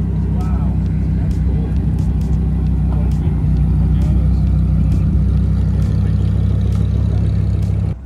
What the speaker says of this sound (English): Here's this 350Z that rolled in.